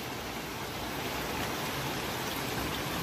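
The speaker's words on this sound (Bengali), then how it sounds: "শুরু হলো আজকেও বৃষ্টি।" Afternoon rain falling steadily outdoors, a soft even hiss that stays constant and fairly faint throughout with no voices.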